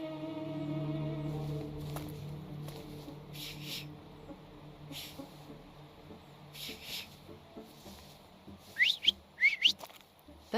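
Whistling in The Thaumaturge video game: a soft sustained tonal whistle at the start, then a few quick rising chirpy whistles near the end over quiet ambient game sound.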